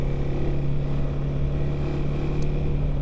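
A KTM 390 Adventure R motorcycle ridden on a road gives a steady, loud engine drone mixed with wind rush, continuous throughout with no talking.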